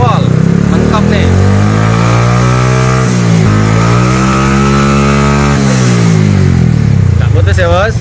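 A Honda Karisma motorcycle fitted with a Supra voltage regulator, headlight switched on, revs hard at full throttle. The engine is loud and close, with a sustained roar whose pitch climbs and dips over several seconds.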